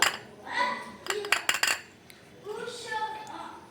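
A honey home remedy is mixed in a small bowl, with a utensil clinking and scraping against the dish in short bursts. Quiet speech can be heard in between.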